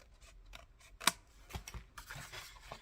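Scissors snip through cardstock along a straight line while making a waterfall journal, a single crisp cut standing out amid soft handling rustles, close and fairly quiet.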